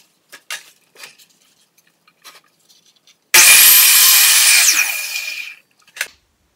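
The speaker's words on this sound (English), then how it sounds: "when you're cutting crown, it's going to be upside down and backwards on the molding" A power saw bites through a length of wooden crown molding for a fireplace mantel, one loud whining cut lasting about two seconds, preceded by soft handling knocks and followed by a brief clack.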